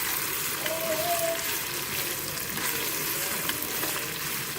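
Ground meat frying in a Nuwave pressure cooker makes a dense, continuous sizzle with soft bubbling and occasional stirring, close and constant throughout, with no talking.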